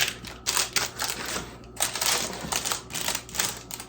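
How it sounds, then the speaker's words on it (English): Parchment paper crinkling and rustling as granola bars are pressed firmly into a pan, a loud, busy crackle in repeated bursts that swell and fade with each push. "this parchment paper makes a lot of noise"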